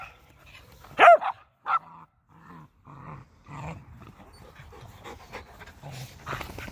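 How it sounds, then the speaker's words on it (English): A dog barks a few sharp times, then pants in soft rhythmic breaths, with quiet indoor background noise between. "That's Finn doing the barking."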